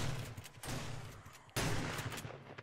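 Gunfire in the zombie survival game 7 Days to Die, in multiplayer, comes as a few loud, sharp blasts spaced apart, each followed by a decaying echo, with no talking over them.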